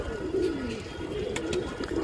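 Pigeons coo softly and repeatedly, low murmuring calls close by over a constant background noise.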